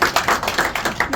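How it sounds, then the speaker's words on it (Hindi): Brief burst of applause at a Livguard dealer meet in Srinagar, quick sharp claps from a nearby crowd, loud and close, with no talk. "जोरदार तालियां"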